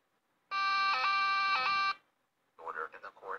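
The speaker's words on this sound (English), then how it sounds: "Now I just called the police. They are coming, Black Bear." A wailing police car siren in a playful arrest scene sounds as one steady, loud tonal burst lasting just over a second, then stops. Voices follow after a short gap.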